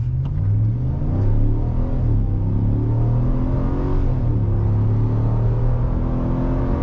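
A 2022 RAM 1500 Rebel with a HEMI V8 accelerating hard from 0 to 60 in two-wheel drive, deep loud engine roar climbing in pitch through several gear changes, heard from inside the cab with no talk.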